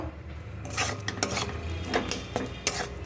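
Bitter gourd is stirred nonstop in a pan over high heat to dry it out, giving soft sizzling under repeated sharp scrapes and clinks of a spatula against the metal, close and with no speech.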